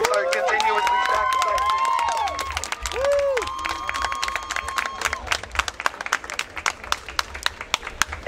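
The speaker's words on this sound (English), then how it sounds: "So please, please, please clap it up so they can hear you in there" A crowd at a Howard University student protest claps loudly and steadily, with cheers and whistling voices rising early, then thinning into sharper scattered claps near the end.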